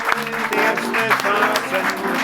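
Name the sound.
applause for Patrick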